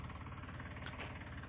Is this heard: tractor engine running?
yes